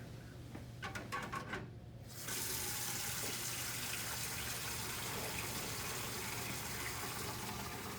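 Tap water gushes steadily into the tank of an ultrasonic cleaner, a few short clicks giving way to a constant, loud rushing fill with no talking.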